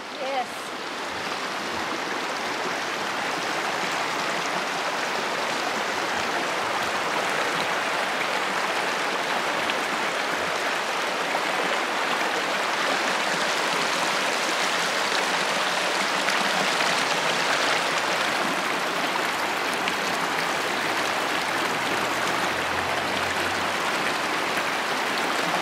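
A creek in the Great Smoky Mountains rushes and gurgles in a steady, loud broadband wash that continues without a break throughout.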